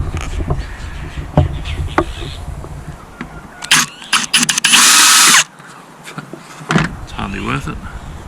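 A power drill runs in one steady burst of about a second while a Crafter/Sprinter van roof rack is fitted, with shorter mechanical clicks and whirs around it and voices talking quietly nearby.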